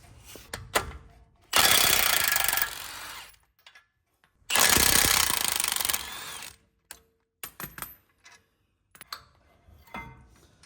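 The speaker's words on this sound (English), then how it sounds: "I'll be using a 21mm socket to remove the 2 bolts securing it in place" A 21mm socket on an impact gun removes the two bolts holding a brake caliper during a high-steer knuckle install, with two loud, close hammering bursts of about a second and a half each, separated by quiet gaps and followed by scattered clanks and ratchet clicks.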